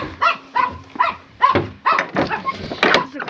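A dog at a rural home with rabbits and chickens barks in a steady series of sharp, loud barks close by, roughly twice a second, with other animal or voice sounds mixed in toward the end.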